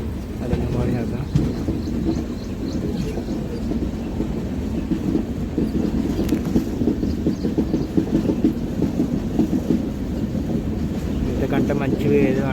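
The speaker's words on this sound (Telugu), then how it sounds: "పక్కన తిరుపతి కొండలో మధ్యలో మన ట్రైన్." The Rayalaseema Express, a superfast train from Nizamabad to Tirupati, runs through the Tirupati hills with a steady rumbling clatter and wind buffeting, heard from aboard, with voices faintly underneath.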